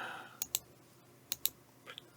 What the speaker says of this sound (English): Once again, apologies for the clicking.